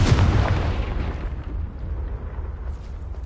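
A Confringo fire-spell explosion in the Hogwarts Legacy video game: one loud, close, booming blast with a deep low rumble that slowly fades over a few seconds, with no talking.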